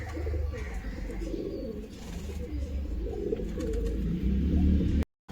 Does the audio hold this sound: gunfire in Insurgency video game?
no